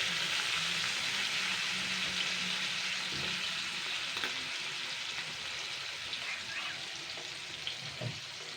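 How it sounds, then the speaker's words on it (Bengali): Pond fish frying crisp in hot oil for a light Bengali curry, a steady dense sizzle running evenly throughout with a few small pops and spatters, close and continuous with no talking. "তাই এখন আমি কড়া করে রাত্রে আমি মাছগুলো ভেজে রাখছি।"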